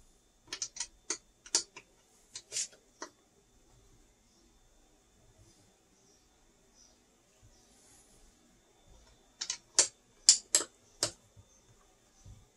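A T50 6-point bit loosens screws on a Oneshock GT shock during installation, making two clusters of sharp ratcheting clicks, first near the start and again near the end, with a quiet gap between.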